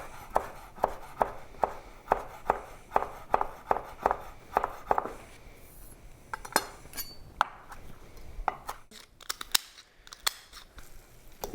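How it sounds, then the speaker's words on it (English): Fresh chives chopped on a cutting board for mashed potatoes, a brisk regular series of knife strikes that thins into scattered taps, clinks and utensil handling. "Now we're going to chop some of the chives, and we're going to add that in to our potatoes"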